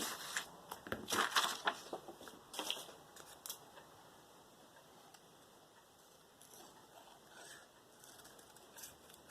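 Scissors snip through paper while a ghost shape is cut out for a Halloween junk journal, a close, quiet cluster of crisp cuts early on that fades into near silence.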